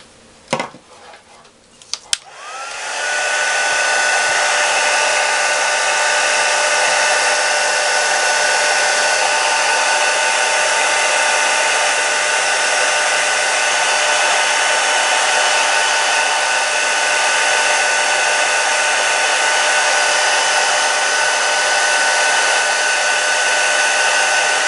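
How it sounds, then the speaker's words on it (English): A heat tool blows steadily and loudly for over twenty seconds, setting green embossing powder on a scrapbooking craft project, with a few clicks and handling noises as it starts up. "now we're going to heat set it"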